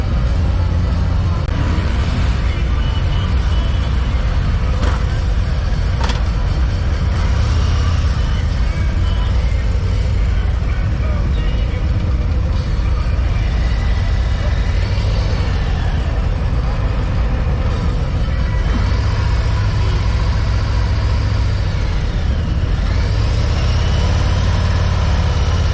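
Harley-Davidson Road Glide ST with the 117 engine ridden at a demo day in Sonoma County: a loud, steady, deep engine rumble with heavy wind rush throughout, near and continuous.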